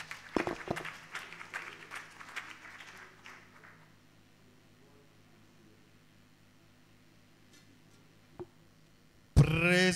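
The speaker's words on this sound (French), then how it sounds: "Acclamons très fortement pour le Seigneur pour ces témoignages." A church congregation claps in a brief, moderately loud burst of applause that fades out within a few seconds, leaving a quiet hall before a sudden loud sound at the end.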